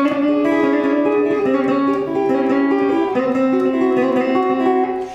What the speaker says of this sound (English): showing me some country licks and country banjo roll licks actually